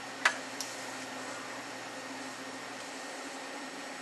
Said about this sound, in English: Now the wire is switched from mild steel wire to stainless steel wire.